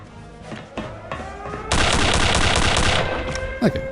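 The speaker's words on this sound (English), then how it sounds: "That was just a pistol." Gunfire in the World War II shooter Return to Castle Wolfenstein: a few sharp separate pistol cracks, then a loud rapid burst of automatic fire lasting over a second, followed by scattered clanks and one more crack.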